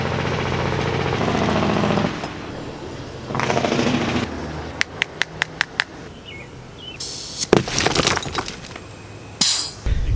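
A pneumatic hammer drill drilling into rock in a fossil pit chatters loudly in short bursts, with sharp metallic clinks and knocks in between and a brief high-pitched whine near the end.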